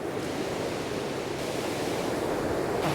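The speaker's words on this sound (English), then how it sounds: "It's so windy." Steady, roaring wind gusts across the microphone, a dense broadband rush that stays loud throughout with no voices.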